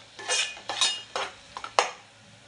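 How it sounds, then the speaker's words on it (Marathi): A utensil scrapes and clinks against a pan while onions are sautéed with masala for a Konkani-style fish curry, five or six short distinct stirring strokes with small metallic knocks, close and fairly quiet. "कांद्यामध्ये परतून घेऊया."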